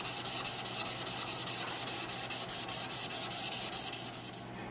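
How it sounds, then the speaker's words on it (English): A small neck knife blade and handle being smoothed by hand, a close, steady rhythmic rasping of strokes back and forth with no talk. "smoothing the face of the blade and the handle"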